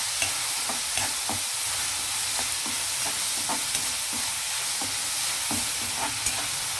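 Chopped onions sizzle and fry in a pan for a curry of drumsticks and soya chunks, with a steady crackle and frequent stirring scrapes and taps close by.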